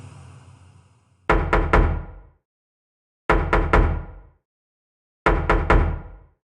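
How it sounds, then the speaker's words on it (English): Knocking on a door in three evenly spaced groups of three firm, resonant raps, loud and near, each group followed by silence after a soft low rumble at the opening. "Then knocking."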